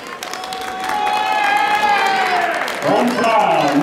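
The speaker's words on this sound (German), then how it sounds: "Einen kräftigen Applaus." A crowd claps and cheers loudly at an under-17 youth tournament awards ceremony while voices call out over the noise, the applause swelling and staying strong throughout.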